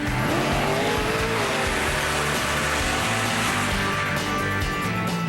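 A monster truck accelerating hard and shifting into high gear, with a loud, continuous engine roar and rising revs very close throughout, with no voices.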